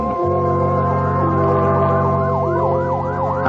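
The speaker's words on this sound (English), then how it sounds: "A fire engine, suddenly screaming through the night, draws her swiftly from her bed to the open window." A fire engine siren wailing through the night, a loud rising and falling electronic howl that repeats in quick sweeps over a steady engine drone.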